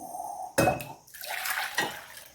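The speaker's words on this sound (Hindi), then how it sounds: "इसका पानी भी निकाल के अलग बोल में रख लेंगे।" Cooking water from boiled raw mangoes is poured into a bowl in a home kitchen, a short close splash and trickle followed by a light clink of the container and a brief second pour.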